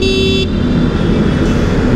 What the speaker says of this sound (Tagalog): Busina ng busina oh.